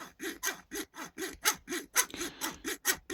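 A hobby saw blade cuts through a plastic part of a 1/25 Revell NASCAR Ford Taurus model in about a dozen steady back-and-forth rasping strokes, close and clear with no talking.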